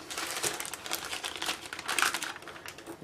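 Plastic bags covering a U.S.S. Enterprise model crinkle and rustle in uneven bursts up close, crisp crackling handled sounds with no talking.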